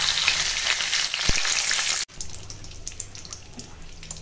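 Pointed gourd and potatoes fry in hot oil in a home kitchen, a steady bright sizzle that cuts abruptly to a quieter crackle partway through, with a brief knock of a utensil.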